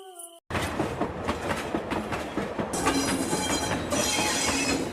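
A cartoon train sound effect for a late-evening train rolling toward a village: a steady, dense rumble with rhythmic wheel clatter and some squeal, continuous and fairly loud for several seconds.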